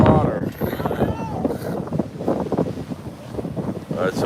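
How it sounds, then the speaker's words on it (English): Strong wind gusts in West Hollywood buffet the microphone with loud, roaring rumbles that rise and fall, while people talk over the noise. "we got winds now kicking in"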